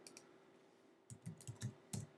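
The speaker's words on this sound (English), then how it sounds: "We're going to double tap the control key, which is going to ask for a password." Several quick clicks of a computer keyboard key in a quiet room, a short run of soft taps that ends in one louder click.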